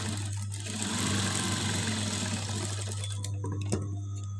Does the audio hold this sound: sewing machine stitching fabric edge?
yes